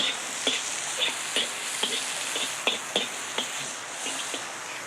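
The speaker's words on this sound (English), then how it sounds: "Between the sizzle of the wok and the sound of the rain on the roof, it's quite a noisy job." A steady hiss of pork frying in a hot wok, punctuated by regular metallic scrapes and taps as it is tossed and stirred.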